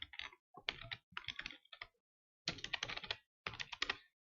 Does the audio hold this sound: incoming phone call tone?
no